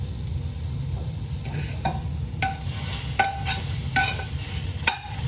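Zucchini sautéing in a pan, with a steady low frying hiss and a series of crisp, clinking scrapes from a utensil stirring the pieces, close by and with no one speaking.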